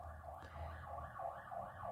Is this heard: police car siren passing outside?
yes